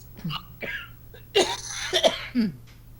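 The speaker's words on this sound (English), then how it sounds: "So yes, I hear your little cough" A few short, dry coughs and throat-clearing bursts in a quiet room, close to the microphone, separated by brief pauses over a low steady hum.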